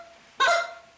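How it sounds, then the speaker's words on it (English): A goose call blown without a flute, giving a single short, clear and guttural honk, loud and close, alone with no talk. "See, that's just the clear and the guttural sound,"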